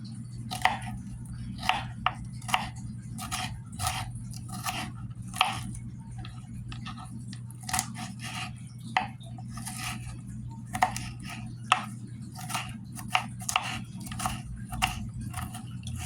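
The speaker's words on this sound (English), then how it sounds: "let's get the bell pepper cut down so we can get everything into this sauce" A knife chops bell pepper on a cutting board for a cheesesteak sauce, sharp irregular taps in clusters, close and fairly crisp, over a steady low hum with no talk.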